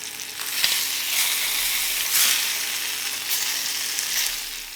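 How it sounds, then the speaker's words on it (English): Beef shanks sear in a hot pan, giving off a steady, fairly close sizzle and spatter that swells and fades slightly, with no voices over it. "I just love that sizzle."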